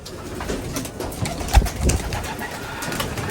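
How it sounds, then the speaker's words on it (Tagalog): Pigeons released to fly, with soft cooing and a mix of wing flaps and shuffling close by over a continuous noisy background. "Magpalipad muna tayo ng mga kalapati natin."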